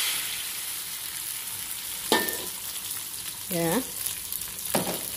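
An egg dropped into hot oil in a wok with chopped garlic gives a steady sizzle with a few sharp spatula scrapes and a short rising squeak, as a voice speaks briefly.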